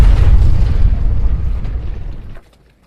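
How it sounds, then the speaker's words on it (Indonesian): A heavy explosion above an apartment in a horror film: a deep, booming blast with rumbling low-end debris that decays over about two seconds before cutting to near silence. "terdengar suara ledakan di atas apartemennya"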